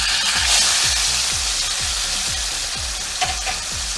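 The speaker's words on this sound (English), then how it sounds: "Now we're gonna add our steak so we can sear it." A porterhouse steak sears in a pan heated to about 410 degrees, giving a loud, close, continuous sizzle with a rhythmic series of low thumps pulsing underneath.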